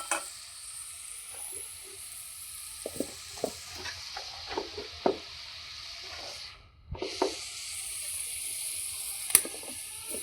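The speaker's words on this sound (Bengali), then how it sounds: "হয়ে গেলে আমাদের উচ্ছে দিয়ে মাছের তেল ভাজা রেডি।" Bitter gourd is stir-fried with fish oil in a pan, giving a steady close sizzle with repeated scraping stir strokes and small clatters throughout.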